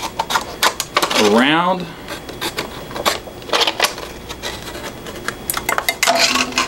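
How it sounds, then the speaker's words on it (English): Scissors cut into a cup down to its bottom while building a rubber band car wheel, giving a short rising rasp of a few crunchy snips amid scattered clicks, with a voice speaking nearby. "All I need to do is take a pair of scissors, cut into the cup, down to the bottom,"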